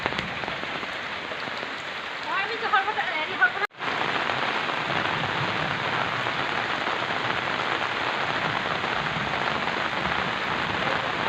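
Heavy monsoon rain pours steadily onto a flooded village yard, a dense continuous hiss that fills the whole stretch, briefly interrupted by a sharp dropout before resuming just as loud.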